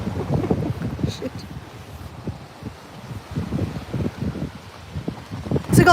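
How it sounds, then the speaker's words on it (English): Wind buffets the microphone in heavy, low rumbling gusts, rising and falling throughout, with a short burst of sound at the very end. "So guys, please don't listen because it's really windy."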